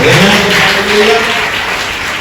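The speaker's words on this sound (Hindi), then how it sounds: "प्रभु के लिए जोर से ताली बजाएं।" A church congregation claps loudly and continuously during a Pentecost service, a dense steady patter with a voice sounding over it.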